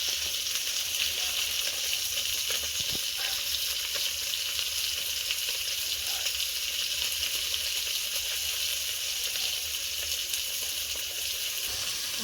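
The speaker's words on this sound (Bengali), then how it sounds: "এই তেলের মধ্যে বাটা মাছগুলো ভেজে নেব।" Bata fish frying in hot oil gives a steady, even sizzle with a bright hiss that holds throughout, close and constant with no talking.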